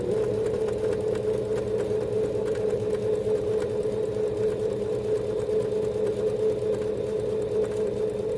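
A sewing machine stitches through two layers of fabric for a window face mask. It gives a steady, continuous mechanical hum with a fast, even rattle, close and constant throughout, with no talking.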